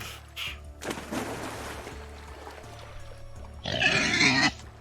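A pig grunts twice in the Vintage Story video game: a short grunt near the start, then a louder, rougher burst toward the end, over steady background game music.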